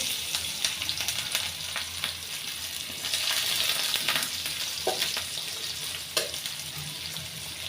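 Onions frying in oil until browned give a steady, close crackling sizzle, broken by scattered stirring scrapes and a few sharper clinks, with no voices.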